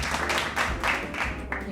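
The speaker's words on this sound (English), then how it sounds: "I'm adding in the applause sound effect" An added applause sound effect in a home kitchen during a Thanksgiving cooking session: a short, steady wash of clapping at moderate level, continuous throughout.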